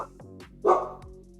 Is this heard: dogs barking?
yes